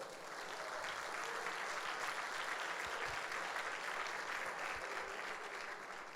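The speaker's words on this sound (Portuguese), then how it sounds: "Vamos dar um aplauso a Jesus?" Steady applause from a church congregation gathered for a pastors' event, dense and sustained, filling the room from start to finish with no talk over it.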